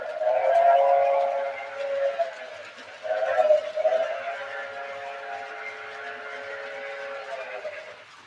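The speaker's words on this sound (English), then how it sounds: "This train does sound pretty, or this engine sounds great." A model train engine on a layout run with TMCC gives a sustained, tonal, horn-like sound that swells and fades in two long blasts and then holds steady. It is fairly loud and heard alone.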